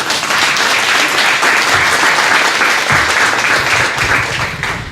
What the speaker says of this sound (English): So give yourself a round of applause for showing up today.